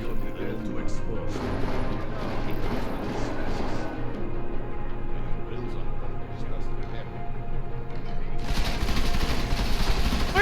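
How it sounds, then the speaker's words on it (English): Gunshots fired at books in the game Deus Ex: Mankind Divided, with loud, harsh impacts and crashes over a low game rumble while someone talks throughout; a dense burst of impacts breaks out near the end. "Why are you shooting at books?"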